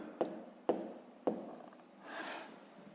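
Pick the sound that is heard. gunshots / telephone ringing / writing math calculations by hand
writing math calculations by hand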